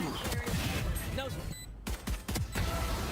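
Sharp gunshots in a Valorant esports match snap out in quick bursts and single cracks, loud and close, mixed with game effects and talking over the action.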